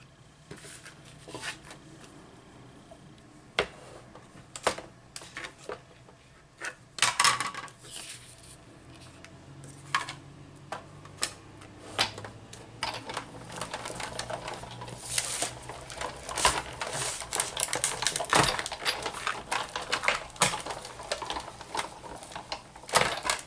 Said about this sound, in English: I'm just going to use some index cards to cut some shapes.